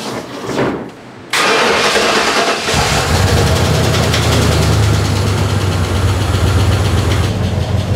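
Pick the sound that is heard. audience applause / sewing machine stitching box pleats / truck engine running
truck engine running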